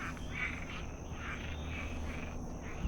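Frogs croak in a pond with lily pads and cattails during mating season, repeated soft calls over a constant insect-like hum and background noise.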